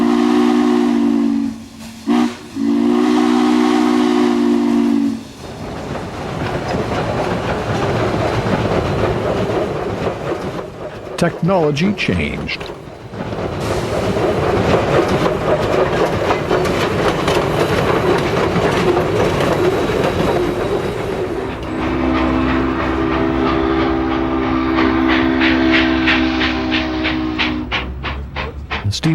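A steam locomotive sounds its whistle in loud sustained blasts, then passes close with heavy rumbling, hissing steam and clattering rail noise before the whistle sounds again, and a voice speaks briefly.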